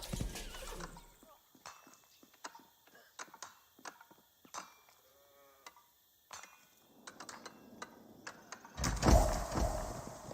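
Horse archers advance in the strategy game Age of Empires 4, with repeated hoof clip-clops, a whinny and scattered clicks, fairly quiet, before a louder burst of game noise at the end.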